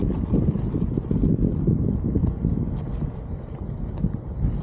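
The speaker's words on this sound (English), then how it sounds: "Sorry about the noise, it's a bit windy out here." Heavy low buffeting of wind against the microphone outdoors in Savannah, Georgia, rumbling continuously throughout with gusty surges and no voices.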